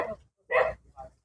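Dog on a guapple farm giving three short barks close by, a quick pair followed by a softer single yip, with brief silent gaps between.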